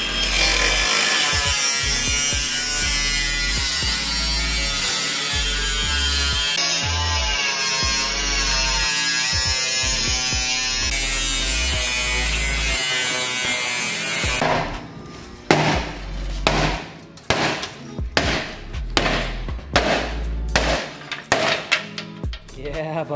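A power tool cuts loudly through the metal front end of a car, a sustained harsh grinding roar for about fifteen seconds, then gives way to a series of short bursts and clanks.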